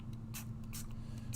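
A spray bottle of lime pigment gives three quick, short hisses in an even rhythm, close and faint over a low background hum.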